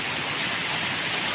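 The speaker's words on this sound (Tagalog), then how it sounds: "sapa, padaos-daos yung tubig" A mountain stream rushes among large rocks and bamboo in a steady, full wash of flowing water, close and continuous, with no voices.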